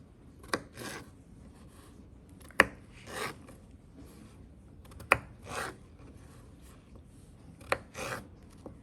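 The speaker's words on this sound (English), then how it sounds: "we're going to continue this until we get them into the right size diced pieces" A knife dicing potatoes on a flat surface, with about four sharp chops spaced roughly two and a half seconds apart, each followed by a brief scraping rasp, close and clear, with no talking.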